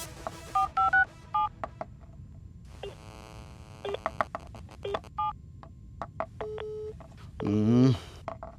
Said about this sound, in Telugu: ఒకసారి ఆ నెంబర్ కాల్ చేయి.